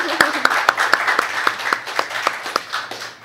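An audience at the launch of a patient care assistant programme in Guyana claps in a sparse, uneven rhythm, with distinct individual hand claps rising and falling for a few seconds.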